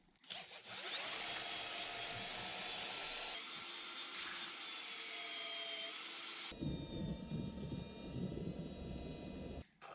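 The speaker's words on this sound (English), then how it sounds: "I wonder if this drill is overkill." A power drill runs steadily for several seconds with a high whine, then shifts to a rougher, lower churning grind as the paddle works through thick mortar.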